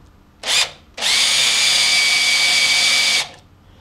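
A powered reamer bores into a threaded hole on an air intake manifold with a damaged thread coil, a loud close whine in a short burst, then a sustained run of about two seconds before stopping.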